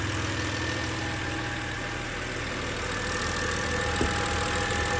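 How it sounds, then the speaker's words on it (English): BMW X3 E83 engine idling steadily after a coil pack replacement, a continuous even mid-pitched hum with low rumble and no obvious misfire, close and alone. "car starting nicely, running fairly smoothly at the minute"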